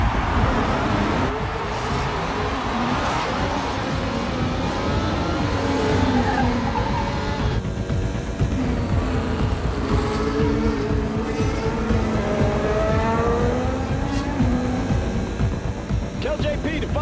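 F1 race cars in a film sound mix, loud roaring engines with rising and falling pitch sweeps as cars pass, tire squeal and skidding layered in a dense, continuous wall of sound.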